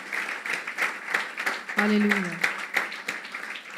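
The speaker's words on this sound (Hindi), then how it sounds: "एक दफ़ा ज़ोरदार तालियां यीशु के लिए।" A church congregation claps in praise of Jesus, crisp scattered claps running throughout while a single voice calls out briefly in the middle.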